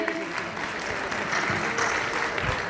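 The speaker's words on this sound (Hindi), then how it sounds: "तालियां तो बजा दीजिए।" Audience claps at an award ceremony honouring students at a career institute in Bhopal, with dense continuous applause filling the hall and some faint talk mixed in.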